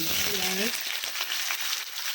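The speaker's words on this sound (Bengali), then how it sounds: "পেঁয়াজগুলো একটু লাল লাল করে ভাজা হোক" Onions sizzle in hot oil alongside already fried cumin seeds, a steady bright hiss close to the pan, with a brief voice at the very start.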